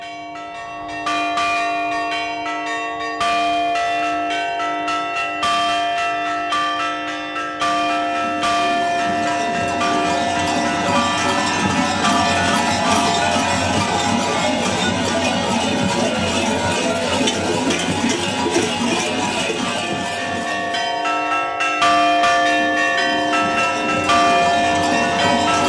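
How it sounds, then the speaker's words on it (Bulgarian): Church bells ring in Bansko, Bulgaria, in a loud, sustained festive peal that continues throughout, with overlapping tolls layered densely and no speech. "Възвестява ги тържественото биене на камбаните"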